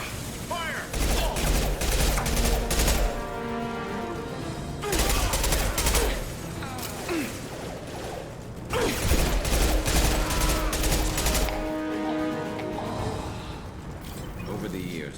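Rapid gunfire from a squad firefight in Mass Effect 2 crackles in loud bursts, with heavy low-end impacts and mechanical clatter coming in waves, stopping and starting again, with voices shouting over the shooting.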